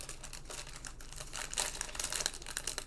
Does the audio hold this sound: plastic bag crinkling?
yes